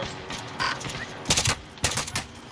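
Bursts of gunfire in Call of Duty Warzone: several rapid, sharp volleys crackle in quick succession, loud and close, separated by brief gaps.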